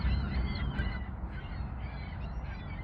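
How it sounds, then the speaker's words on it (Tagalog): Geese or ducks honking outdoors at dusk, a dense overlapping chorus of calls from a flock, steady and moderately loud over a low rumbling background. "Ito mga itik siguro to or geese. Geese yata."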